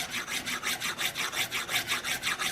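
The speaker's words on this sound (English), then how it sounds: "an old scissors, the back of a knife, you can scrape off all of that old buffing compound" Old scissors scraping built-up buffing compound off a sharpening strop: a steady back-and-forth rasping, about four strokes per second, close and fairly loud, with no voices.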